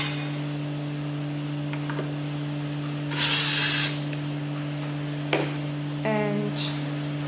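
A power tool drives screws out of an industrial sewing machine table in two short whirring bursts, with a single sharp click between them, over a steady low hum in a quiet room.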